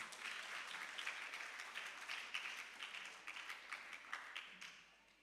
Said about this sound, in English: Once again, a round of applause for the Alpha Junior School's parents.